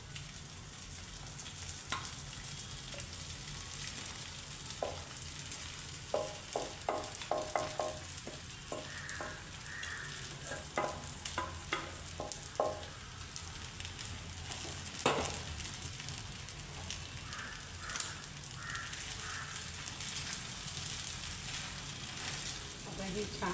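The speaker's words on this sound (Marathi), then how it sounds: "ही छान खिचडी अशी तुपामध्ये परतून घ्यायची." Sabudana khichdi being stirred and sautéed in ghee in a pan, with a soft steady sizzle and repeated clicking spoon scrapes against the pan, close and moderately quiet, with no speech.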